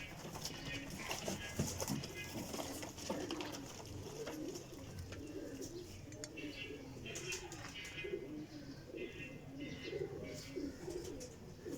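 Several pigeons coo in soft, repeated rolling bursts close by, with faint background noise and scattered chirps.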